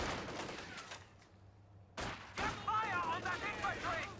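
An MG34 machine gun in the World War II strategy game Company of Heroes 2 fires in rattling bursts around a brief lull, with someone commentator talking over the later shooting.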